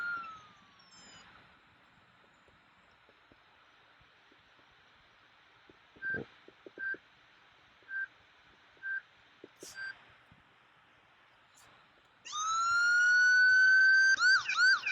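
Police car siren in the Roblox game Berkeley County: a run of short repeated electronic beeps, then a loud, sustained wailing siren rises in near the end, clear and alone with no talk.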